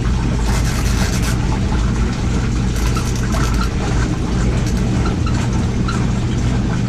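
A small RV laundry machine runs with its lid closed, its tub spinning one way and then reversing, giving a steady loud low churning rumble with faint sloshing and no speech.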